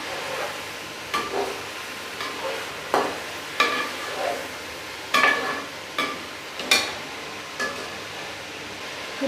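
Chicken pieces fry in a karahi pan under a soft continuous sizzle, punctuated by regular spatula scrapes and stirring strokes roughly every second, close and clear, without talk.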